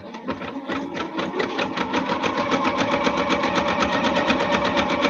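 An antique sewing machine runs steadily through a zigzag stitch, a fast, even mechanical rattle of close repeated clicks that builds over the first second and then holds loud and close, with no talking.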